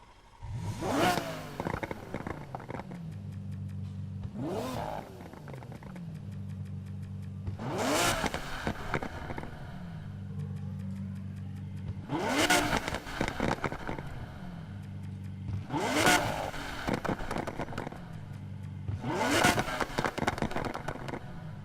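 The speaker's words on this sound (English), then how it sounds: "This is me editing the exhaust sound. I think this thing sounds fantastic." A roaring V12 Mustang exhaust in Need for Speed Heat revs up hard about five times, each surge rising in pitch then falling back to a steady low idle between bursts.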